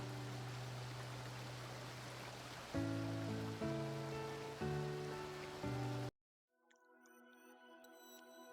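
Steady broadband rush of river water and a waterfall in the farming game Coral Island, loud and continuous under a melodic music track, cutting to a quieter game scene partway through.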